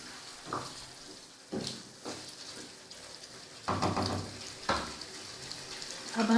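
Chicken pieces fry in a pan for Patiala murgh, a low continuous sizzle marked by several louder bursts of stirring and pan clatter, heard up close with no one talking.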